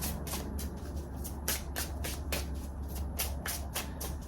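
Tarot cards being shuffled by hand, a series of quick papery riffles and slaps in an uneven rhythm, close and soft.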